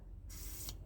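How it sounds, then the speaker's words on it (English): Penetrating spray hisses from a can onto a rusted link nut on a Honda Activa scooter, a single short burst of steady close spray lasting under half a second over a quiet low hum. "So we have to put some penetrating spray."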